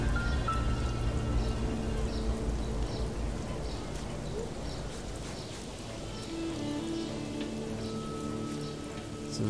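Pouring rain in the video game Black Mirror 2, a steady dense hiss of falling rain with faint pattering throughout, no talking.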